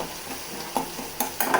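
Fish masala frying in a pan while it is stirred: a steady sizzle with a few quick scraping stir strokes near the end, close and clear, without voices.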